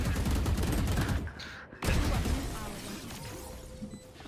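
Rapid gunfire in Valorant rattles through a wall inside a bathroom area, a dense burst of shots that cuts out briefly and then resumes with a continuing volley, all close and loud.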